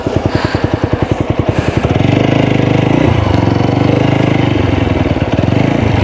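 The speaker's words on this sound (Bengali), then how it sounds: "এই যে মেশিন আনাদের এই যেভাবে রস তৈরি করে" A sugarcane juice machine engine runs close and loud beside a riverside village, first thumping in a fast regular chug, then settling into a thicker, steady mechanical drone with clattering undertones.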